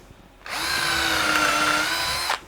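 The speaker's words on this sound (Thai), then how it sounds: "คราวนี้เราจะเจาะไม้อันนี้เป็นดอกสว่าน 6มิลิเมตร" An electric drill bores a 6 mm hole into a piece of wood. The motor whine rises, holds steady for about two seconds and then stops abruptly. It is loud and close, with no talking.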